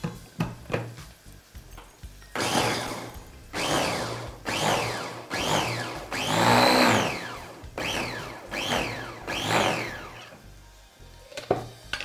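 A chopper crushes ginger, green chilies and garlic in repeated whirring bursts, each about a second long with a rising-and-falling pitch, separated by short pauses and clattering knocks, loud and close with no talking.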